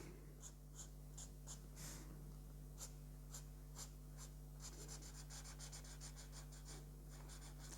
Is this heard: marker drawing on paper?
yes